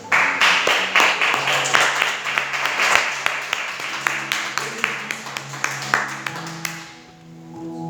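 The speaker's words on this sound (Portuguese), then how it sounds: "glorifica o nome do Senhor com suas palmas" A church congregation at a revival service claps in praise, a dense burst of many hands that thins into a steady rhythmic beat before fading out, with a voice speaking over it.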